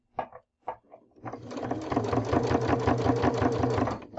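A sewing machine stitches binding onto a quilt edge. Two brief taps come first, then a steady, close, rapid rhythmic whirring and clatter runs to the end.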